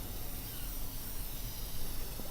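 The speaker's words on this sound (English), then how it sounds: "I have to hold my controller sideways so that it feels like I'm using an aerosol can." An aerosol spray can hisses steadily in a video game, a soft continuous spray sound at low level with no talk.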